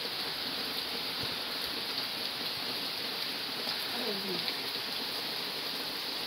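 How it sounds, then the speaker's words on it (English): Rain falls steadily outside, making a constant soft wash of pattering on surfaces, even and unbroken throughout with a faint murmur of a voice briefly in the background. "Listen to the rain, though."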